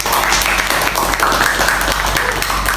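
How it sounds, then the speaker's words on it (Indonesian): A classroom of students claps in sustained, steady applause at close range, filling the whole moment. "Kita berikan aplaus"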